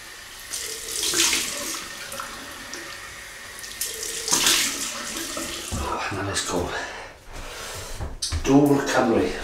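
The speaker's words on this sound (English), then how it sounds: "Cold water rinse." Cold water from a tap runs into a sink for a rinse after a shave with a stainless steel adjustable double-edge safety razor, a steady close gush with a few bursts and clatters, and a voice speaks over parts of it.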